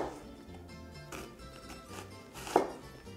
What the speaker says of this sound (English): I'm going to slice the onion. And now I'm going to cut it in the other direction.